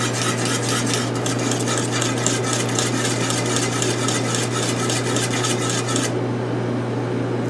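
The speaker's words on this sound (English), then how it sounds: "You can add a little bit of salt, add a little bit of pepper. That's what I'm doing. We're going to stir it in." Salt and pepper being stirred into turkey sage dressing, a steady scraping and rubbing of a utensil against a pan that continues without a break for about six seconds over a low hum, then softens.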